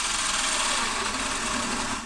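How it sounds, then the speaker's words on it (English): A power drill bores mounting holes for a dome security camera, making a continuous high, grinding whir that stays steady and close before easing off at the end. "drill some holes"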